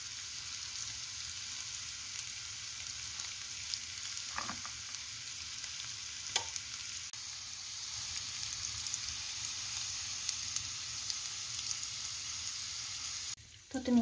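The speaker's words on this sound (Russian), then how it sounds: "Теперь добавим чеснок." Garlic sizzles and crackles steadily in a hot pan, with a couple of faint clinks partway through and a clatter at the end.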